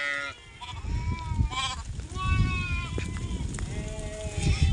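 Goats and sheep bleat repeatedly out on rainy hillside grazing land, several overlapping wavering cries near and farther off over rustling movement, with occasional human voices.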